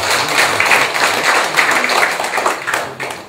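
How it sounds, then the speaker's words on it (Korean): Audience applause in a hall at the close of an academic seminar talk on the Palgongsan monk market, a dense, steady wash of many hands clapping for about three seconds with no talk over it. "박수 부탁드립니다"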